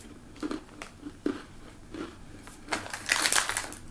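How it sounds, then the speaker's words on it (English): Crunchy gluten-free toffee Girl Scout cookie bitten and chewed, several close, crisp crunches spaced through the moment and building to a louder crackling bite near the end. "anytime you have trouble biting through a cookie"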